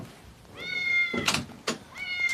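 A cat meows twice, clear and fairly close, with a soft thump between the calls.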